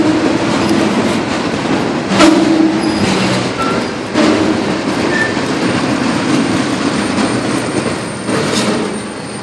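A long CN freight train rumbles steadily past close by in New Haven, Michigan, wheels clattering over the rails with occasional louder surges and faint metallic squeals, no voices.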